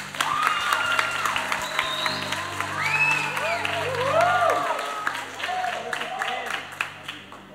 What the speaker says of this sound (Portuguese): Agora uma salva de palmas para os dois atores.